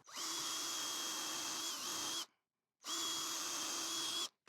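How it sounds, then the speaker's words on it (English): A power drill bores a pilot hole in a wooden jaw piece for an F-clamp. Two loud, close, high-pitched whirring bursts of about two seconds and one and a half seconds are separated by a short silence. "I'm gonna drill a pilot hole and countersink it as well for 2 screws"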